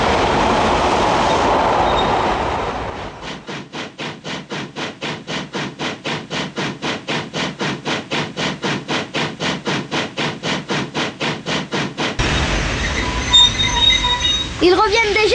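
A locomotive-hauled train passes close by with a long, regular clatter of wheels over rail joints, a rapid even rhythm that dominates for several seconds between stretches of rumbling noise and faint squeals.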